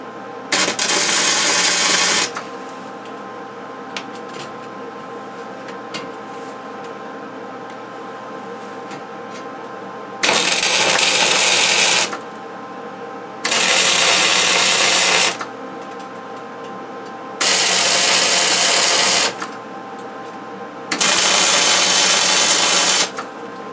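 Tack welds are laid on a steel ice block maker in five short, loud bursts of harsh crackling buzz, each lasting about two seconds, separated by quieter gaps filled with a steady background hum.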